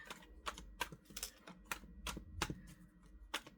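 Tarot cards shuffled in the hands, giving a run of crisp, irregular riffling clicks and flicks up close, with no talking over them.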